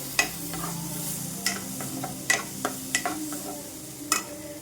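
A spoon stirs a tomato bhaji mixture in a pan over a soft, low sizzle, with several distinct scraping and tapping knocks against the pan at irregular intervals, close and fairly quiet, no talking.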